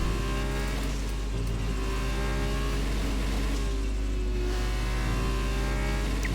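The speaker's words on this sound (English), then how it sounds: "Keeps it in 4th, just revs the engine." A race car engine in an F2 racing video game revs loud and steady, held in fourth gear rather than upshifting, with a dense whine of engine harmonics through the whole stretch and no talk.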